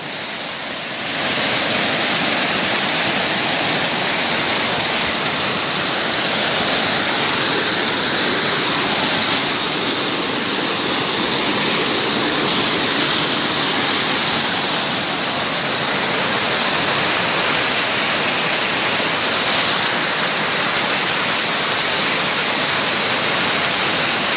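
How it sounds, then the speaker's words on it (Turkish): Göçmen waterfall in the Kaz Mountains, at around 1500 metres, roars as a loud, steady, broadband rush of falling water that holds constant throughout, with no voices. "Göçmen Şelalesi yeni gün yüzünde ulaşılması zor bir yer"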